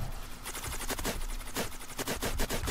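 Rapid automatic gunfire in the first-person shooter video game HEX, loud bursts of sharp repeated shots crackling close without pause, with no speech over it.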